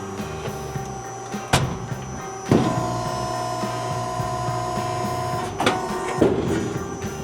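A sheet metal caster tray leg being bent on a press brake in a shop, with sharp metallic clunks and thumps over a steady mechanical hum, followed by creaking strain.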